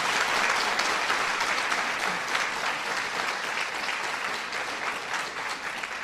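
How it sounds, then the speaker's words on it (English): An audience at the White House in Washington breaks into sustained applause for a woman honoured for her work in Myanmar, a dense, even roar of many hands clapping at steady volume throughout, with no voices standing out. "Please give her a big round of applause"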